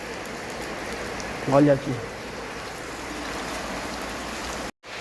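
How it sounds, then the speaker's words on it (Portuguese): Steady rain falling with runoff water flowing down during a rainstorm in Assis, São Paulo, a constant broadband hiss throughout, briefly under a man's short spoken phrase. "Olha, a chuva tá aumentando."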